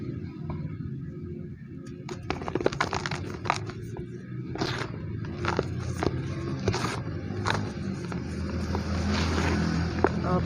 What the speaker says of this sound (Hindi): आप देखें बाइक ऐसे गुजरते हैं शुर शुर